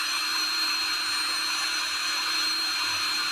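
A SmartGift hot air gun running at 60 degrees with the fan at maximum speed, giving off a constant, even whine and airy hiss with no break throughout.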